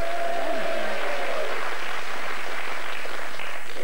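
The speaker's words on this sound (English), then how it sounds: "If you're happy, clap your hands." Studio audience at a BBC One national quiz show bursts into steady, dense applause, loud and sustained throughout.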